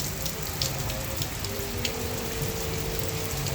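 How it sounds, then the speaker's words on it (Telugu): Heavy rain falls in Dubai, a steady close hiss of drops drumming on surfaces with a few louder splashes and a faint low hum underneath. "నాకు తెలిసి చాలా అంటే చాలా వర్షం పడుతుంది."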